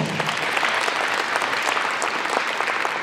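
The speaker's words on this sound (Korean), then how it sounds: "박수 한번 부탁드릴게요." Guests at a book launch event applauding, a sustained round of many hands clapping together at an even, moderate level with no talk over it.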